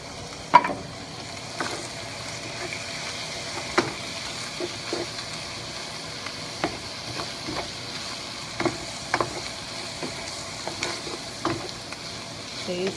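Ground meat with onion and canned green chilies sizzles steadily in a pan for enchiladas, with occasional sharp scrapes and taps of a stirring utensil, close and continuous.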